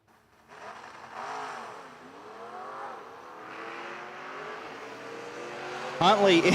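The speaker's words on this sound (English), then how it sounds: "Borgia, the 6-speed Mustang, dialed 775." A 6-speed Ford Mustang race car at a footbrake drag race, its engine droning and climbing steadily under an announcer's voice, then a sudden loud burst near the end.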